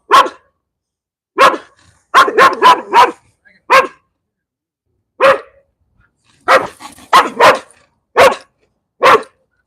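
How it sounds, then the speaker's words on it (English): Loud, close barking from dogs at a storage property in 29 Palms, California, comes in quick bursts, single barks and tight runs of three or four, separated by short silences. "Sometimes you gotta stare down these dogs."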